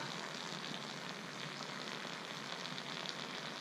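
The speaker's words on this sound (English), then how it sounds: "Well, that sucker's still boiling. Hear that?" A steady, dense crackling hiss of water boiling around hot scrap copper transformers, continuous and fairly close, with no voices.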